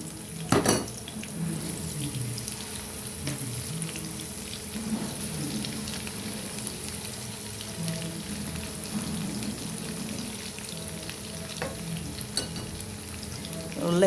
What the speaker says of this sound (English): We'll let it fry just a little.